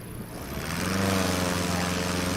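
Propeller-driven STOL aircraft at full throttle during a short takeoff and landing competition on a grass field, a steady loud engine drone with strong propeller harmonics that swells to full power and holds.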